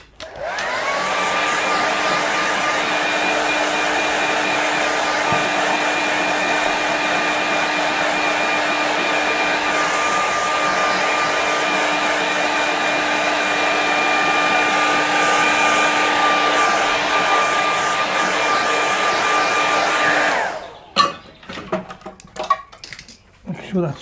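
A hair dryer blows steadily and loudly for about twenty seconds over a watercolour painting, a constant whooshing roar with a motor whine, then cuts off, leaving faint handling noises.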